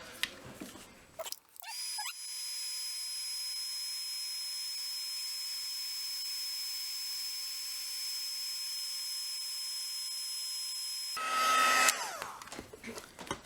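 Heat gun melting embossing powder on die cuts, a steady high whirring blow that switches on after a brief rustle and runs evenly for about nine seconds, then cuts off with handling noise.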